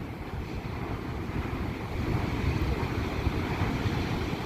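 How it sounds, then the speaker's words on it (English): Ocean surf crashes and roars steadily beneath Jennette's Pier at Nags Head, North Carolina, on a rough, windy day, with wind buffeting the microphone and no speech. "Wow, look at some of these waves out here."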